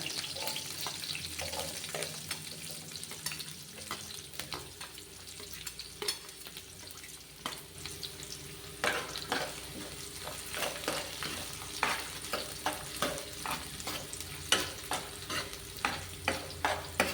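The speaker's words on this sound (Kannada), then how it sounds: "ಇವಾಗ ಈರುಳ್ಳಿ ಹಾಕ್ಕೊಳ್ಳೋಣ" Green chillies and onion fry in a pan for a Karnataka-style ridge gourd bassaru, with a low continuous sizzle and repeated rhythmic scraping of a spoon stirring against the pan, growing busier toward the end.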